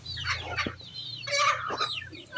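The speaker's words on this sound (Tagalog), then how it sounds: "Kita mo lang yung mga manok nga ha." Native free-range chickens cluck and chatter close by while being fed, a run of short, irregular clucks and squawks over a low background hum.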